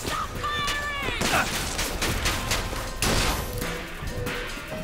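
Video game gunfire in Bioshock Infinite on 1999 mode, a burst of loud shots and crashing impacts packed together over a few seconds.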